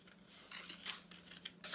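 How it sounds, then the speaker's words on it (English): Scissors snipping through paper while cutting out a pair of paper wings for a craft project, a few close, quiet crisp cuts and rustles with no talking. "I'm going to go ahead and cut all the way around here so that my wings are not attached"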